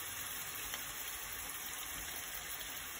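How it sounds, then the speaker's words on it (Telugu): Chicken pieces fry uncovered in a handi over a medium flame, giving a steady, quiet, even sizzle throughout with no talk. "చూడండి ఫ్రై అవుతుంది, చూసిందా ఎట్లా ఫ్రై అవుతుందా?"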